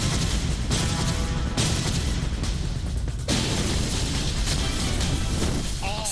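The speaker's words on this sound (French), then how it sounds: "Explosion d'une bouteille de propane en tirant un seul coup de feu." A propane bottle bursts after a single gunshot, giving a loud, sustained broadband roar that fills the clip, with a few abrupt shifts in intensity as the blast and flames carry on.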